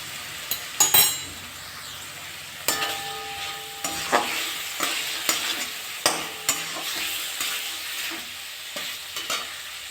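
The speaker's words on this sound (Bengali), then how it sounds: "এবারে ভালোভাবে মশলাটা কষে নিতে হবে" Ground spices, coriander and red chilli powder, fry in oil for a vegetarian potato curry, a steady close sizzle under repeated scraping and clinking stirs of a spoon against the pan, with no talk.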